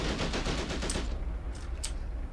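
Rapid machine-gun bursts from a WWII tank battle game set around Faid Pass, Tunisia, 1943, loud and continuous for the first second, then thinning into scattered distant shots and sharp cracks.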